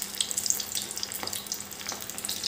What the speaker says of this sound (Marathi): अगदी छोटी कढई घ्यायची आहे आणि अगदी आपल्याला तेलही फार कमी लागतं आणि मस्त कडक अशा फ्राय करायच्या आहेत।